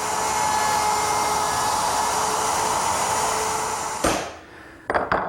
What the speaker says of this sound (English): I clamp the jig with its center line aligning with the center line of the mortise, and I simply route it out.